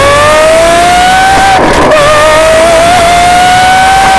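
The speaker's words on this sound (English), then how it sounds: "my personal SVJ is up for sale with a one-off top secret titanium exhaust that makes it sound like an F1 car" A Lamborghini Aventador SVJ with a one-off titanium exhaust revs hard, a loud, close, high-pitched engine wail that climbs steadily, dips briefly with a rough crackle midway, then rises again and holds.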